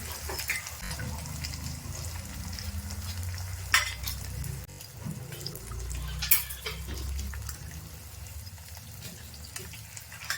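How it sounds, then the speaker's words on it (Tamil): Cracked egg frying with drumstick flowers in a pan, a close, continuous sizzle with stirring scrapes and a couple of louder knocks against the pan. "முட்டையை உடைச்சி அப்படியே ஊற்றணும்"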